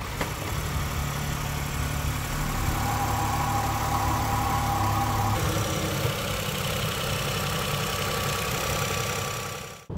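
The three-cylinder engine of a 2024 Renault Espace idles steadily and close by, a constant low hum and rumble with no voices over it.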